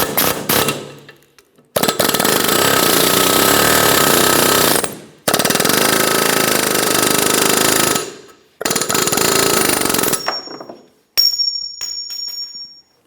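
Loud, close hammering bursts drive the front wheel bearing hub out of a 2012-2015 Honda Civic, in three long stretches of a few seconds each separated by silence, then a shorter burst with a ringing metallic tone.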